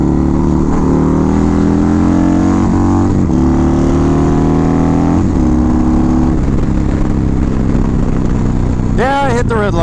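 Indian 116 motorcycle engine revving hard to the red line, loud and close, pitch climbing through gears with brief dips at shifts and a sharp burst near the end; a rider talks over it.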